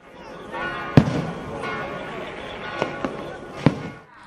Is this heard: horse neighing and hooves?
no